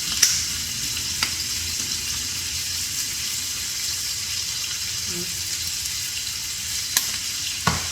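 Pork loin and vegetables brown in a frying pan with a steady, moderate sizzle and faint crackle, punctuated by a few soft clicks and knocks from the pan.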